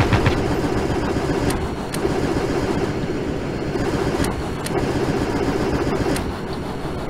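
A vehicle engine in the Stormworks video game cranks and starts back up after dying, a steady loud mechanical rumble running throughout with a few sharp clicks.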